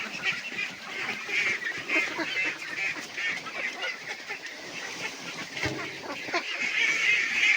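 Ducks crowd around a feed basin of banana trunk and rice bran, giving off a dense, continuous mix of honking quacks and feeding noise at close range, with no voices over it.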